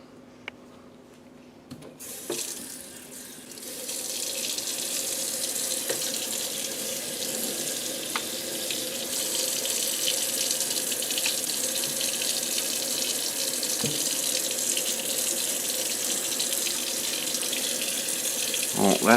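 Tap water gushes steadily to rinse out drip-dyed tie-dye fabric, a close continuous splashing stream starting after a short quiet moment, with occasional knocks and rubbing sounds.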